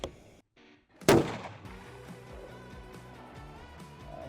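One loud, sharp rifle shot fired at an 800-yard target with budget ammunition cracks out close by, then rings off over a steady bed of background music.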